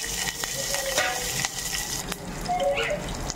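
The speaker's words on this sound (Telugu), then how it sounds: "పోపు దినుసులు, ఇంకా కరివేపాకు వేసేసుకున్నాను." Mustard seeds, spices and curry leaves temper in hot oil with salt and turmeric, giving a steady close sizzle with sharp little pops and crackles throughout.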